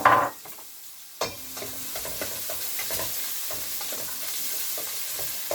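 Onions sautéing in a pan for a vegetable fish soup, a loud sizzle right after they hit the oil, then steady frying with intermittent stirring scrapes.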